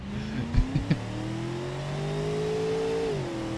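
A synthetic car engine in the BeamNG driving game revs with a steadily rising whine, a few quick throttle blips near the start, then a sustained climbing drone.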